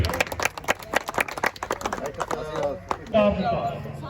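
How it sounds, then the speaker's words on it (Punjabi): Applause at a horse flat race in Jalandhar, a crowd clapping in a brisk, uneven patter for a young man who films horse videos. Close by, then fading as someone speaks over it toward the end. "ਇਹਦੀ ਮੁੰਡੇ ਦੀ ਤਾੜੀ ਜ਼ਰੂਰ ਮਾਰ ਦਿਓ ਬਾਈ"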